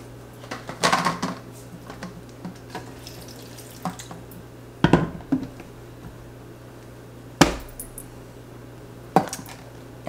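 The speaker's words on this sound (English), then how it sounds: "I'm gonna add a little bit of water as well" Water from a kitchen tap runs into a plant-milk mixture readied for blending, a close splashing pour with scattered drips and a few sharp clunks of dishes or a cupboard.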